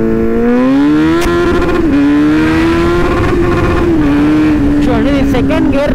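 A Kawasaki Z900 motorcycle accelerates hard in second gear on a road ride, its engine note climbing in pitch and levelling off, loud and near, with wind rush and no speech.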